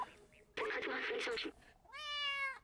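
Cat meows from the video game Stray: a short, soft mew near the start, then noisy game sounds or speech, and a clear, drawn-out meow near the end.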